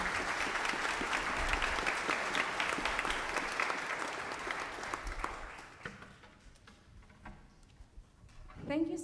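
An audience applauds a gamelan drummer at a performance in front of the Carlos Museum; thick, crowded clapping for about six seconds, then thinning out and fading to scattered claps and room noise.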